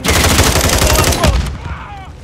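Rapid automatic gunfire from the Call of Duty Modern Warfare III video game, a loud close burst of shots that cuts off and trails away into a fading echo.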